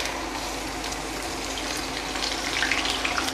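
Onion paste with salt sizzles in hot oil in a pan for a mutton paya curry, a steady close hiss with faint crackles building slightly toward the end, no voices over it.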